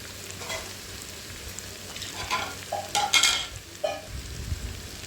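Potato, bitter gourd and onion fry in a covered pan with mustard seeds, cumin, dried red chillies and garlic, a steady close sizzle broken by a few brief stirring scrapes and clinks.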